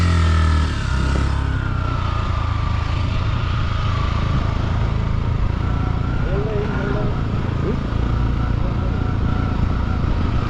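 A motorcycle engine drones steadily throughout, laboring at moderate revs as it climbs a steep, dusty uphill track, with voices talking faintly over the noise.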